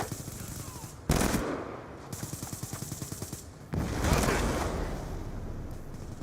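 Rapid automatic gunfire in a Call of Duty match, two loud bursts of fast rhythmic shots separated by a short lull, close and dominant with battlefield noise behind.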